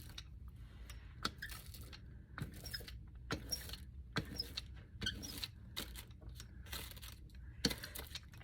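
A brayer rolls over pattern paper in bursts, giving repeated rattling, clattering strokes that sound metallic, close and moderately loud, separated by brief pauses, with no talking.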